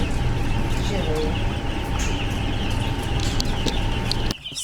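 Dense chorus of many broiler chicks and chickens peeping and clucking continuously at a hatchery, loud and close throughout, with a steady background hum and the racket cutting off abruptly at the end.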